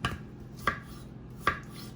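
Three sharp knife chops land on a cutting board at even intervals as potatoes are cut into smaller pieces, with quiet pauses between strokes.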